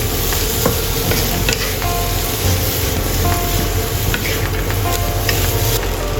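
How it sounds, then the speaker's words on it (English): Sliced yam beans being stir-fried in a pan with dried shrimp, a loud steady sizzle throughout with frequent scraping and clinking of the spatula against the pan. "Add yam beans sliced and stir fry until aromatic."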